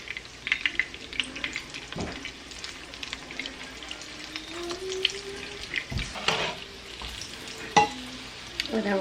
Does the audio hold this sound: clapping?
no